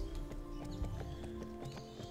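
Horse galloping in the Barbie Horse Adventures: Wild Horse Rescue video game, a steady rhythmic run of hoof clip-clops over a tonal game soundtrack, fairly quiet and alone.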